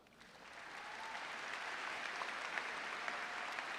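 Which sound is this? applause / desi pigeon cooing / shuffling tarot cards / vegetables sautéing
applause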